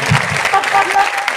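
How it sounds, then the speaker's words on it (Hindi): Congregation clapping loudly at a church service, a short dense burst of many hands, close and strong, with a voice speaking through it. "जोर की ताली बजाएंगे"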